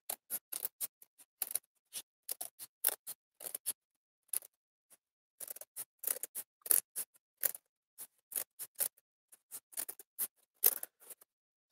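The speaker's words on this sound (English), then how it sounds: "Here, let me get the scissors." Scissors snip through craft material for mask props in quick, crisp close-up cuts, arriving in irregular bursts of several snips with short quiet gaps between them.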